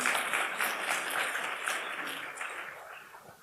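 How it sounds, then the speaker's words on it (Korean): The audience at a Korean-language speech contest during a Japan–Korea friendship festival in Shizuoka claps for the presenters in the recitation section, a full, steady wash of many hands that gradually thins and softens toward the close. "大きな拍手お送りください。"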